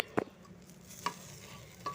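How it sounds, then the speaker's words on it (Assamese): Rice is fried and stirred in a pot for khichdi. Three brief scraping strokes stand out over a faint, low sizzle, quiet and close with no voices. "এয়া চাউলখিনি দি ভাজি আছিলোঁ,"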